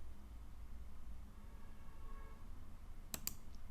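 Two quick, faint computer mouse clicks, close together near the end, over a low steady background hiss.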